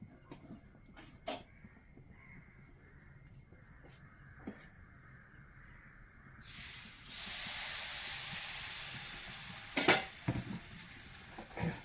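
Appam batter hitting an oiled hot griddle stone lets out a sudden steady hiss about halfway in, after quieter scraping and clinks, with a few sharper utensil knocks near the end.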